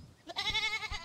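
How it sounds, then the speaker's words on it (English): Goat bleating in the video game Airport Renovator, a single short wavering bleat heard up close and alone. "Shut up, goat."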